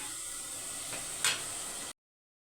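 Onions sauté in a pan for a fish and prawn meal: a soft, even sizzle with one brief utensil scrape, cutting off abruptly into silence, and no one talking.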